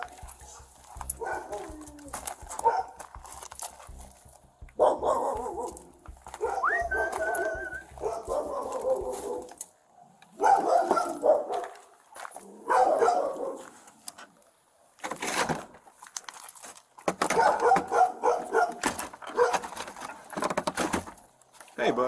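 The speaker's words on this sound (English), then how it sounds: "he began hearing barks behind the fence" Dogs bark in bursts from behind a fence a short distance away, mixed with a person talking and whistling to them.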